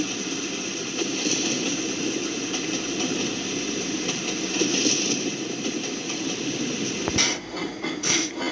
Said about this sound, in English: they listened happily to the two-engine steady beat